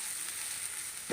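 Beef fry masala sizzles steadily in a pan, a continuous hiss of frying with a brief stirring scrape at the end, close and moderately loud with no talking.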